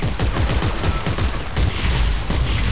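Force gun firing in the video game Dead Space 3, a rapid run of heavy blasts and booming impacts packed tightly together, loud and relentless for the whole stretch.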